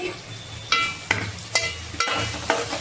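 Tomato and carrot fry in a pan with a bright sizzle, cut by five evenly spaced clanks of a spoon stirring, close and alone.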